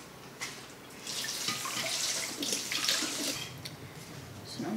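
Tap water runs steadily into a sink as fruit is rinsed for tanghulu, a continuous hiss and splash with a few brief drips, fairly close and alone without talk.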